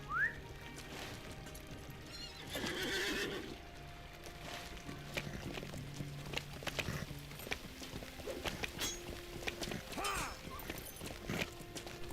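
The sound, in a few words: horse neighing and hooves in video game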